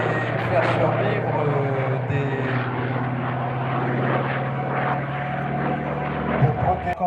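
A large single-engine propeller aircraft at the Melun Villaroche airshow drones loudly and steadily for the whole stretch, its deep engine hum and propeller beat close and continuous.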